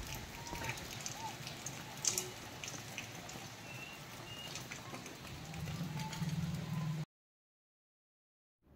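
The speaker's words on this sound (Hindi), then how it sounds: "बारिश देखिए कितनी हो रही है।" Heavy monsoon rain pouring down outside a home, a constant dense hiss of falling water with scattered drips and faint background sounds, before cutting to silence near the end.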